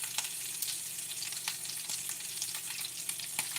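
Bacon frying in a pan for a croissant breakfast sandwich, a steady broadband sizzle with scattered sharp pops of spattering fat, close and fairly loud, with no talking.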